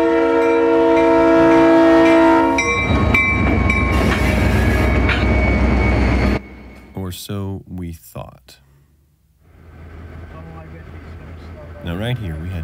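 A Keokuk Junction Railway freight train pulls away from a grain facility behind GP20 diesels, sounding loud horn blasts over engine rumble before the noise drops off, followed by quieter rumbling with intermittent voices talking.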